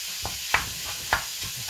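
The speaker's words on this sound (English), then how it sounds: "right here, that sizzle coming on" Food fries in a pan seasoned with cumin and Cajun spice, giving a steady soft sizzle broken by a few sharp stirring scrapes and clinks.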